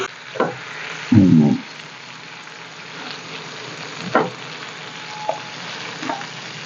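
Fish frying in a pan with a steady sizzle and a few sharp spatula scrapes and taps as the pieces are turned, one louder thud near the start.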